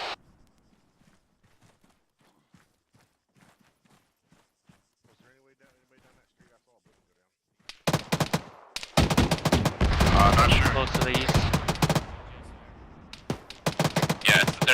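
Autocannon fire in the military shooter ArmA 3, opening with quiet radio chatter and faint distant thumps, then a loud sustained burst of rapid heavy rounds from about eight seconds onward, with voices talking beneath it.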